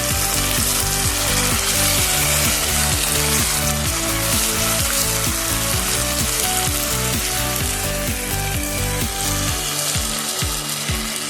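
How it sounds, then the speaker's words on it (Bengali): Chicken pieces in a yogurt-based dahi chicken masala fry loudly in a pan, a dense continuous sizzle with rhythmic scraping strokes as the meat is stirred, close and prominent throughout. "ভালোভাবে মাংসটাকে কষিয়ে নিচ্ছি, মাঝে মাঝে নাড়াচাড়া করে করে"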